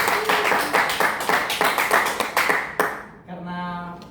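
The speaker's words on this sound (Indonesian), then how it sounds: "kita beri aplaus untuk semua kelompok" A classroom group claps for all the presenting student groups, a steady patter of hands for about three seconds that stops abruptly, followed by a brief sustained tone.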